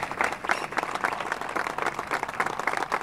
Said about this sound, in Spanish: a la memoria de Jorge, el Peludo Díaz, el aplauso con calidez y entusiasmo que ustedes están vertiendo en este momento es mucho, mucho más que merecido.